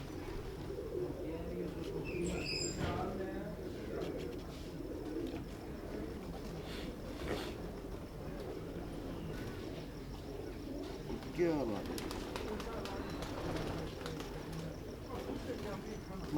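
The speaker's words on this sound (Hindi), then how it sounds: "ये मेरे अमामदीन कबूतर हैं जी, अमामदीन।" Imamdeen pigeons coo softly and steadily in the background, a low continuous murmur of several birds, while someone talks over them throughout.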